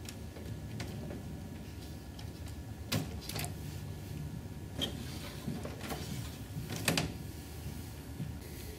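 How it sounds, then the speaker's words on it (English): A developer unit being pulled out of an MXC250/MXC300 Neo multifunction printer gives a few sharp plastic clicks and sliding knocks, spaced irregularly against a steady low mechanical hum. "now we can release the developer unit by pushing this grey catch, pulling"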